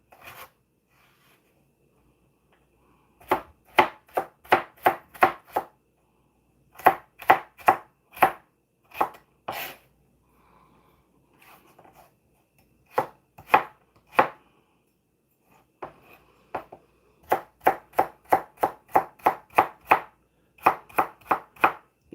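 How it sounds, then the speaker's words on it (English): A knife chops vegetables for oven-baked vegetable samosas in a close, rapid rhythm, coming in quick bursts of strokes separated by short pauses, with no talking. "But trying to do that whilst chopping."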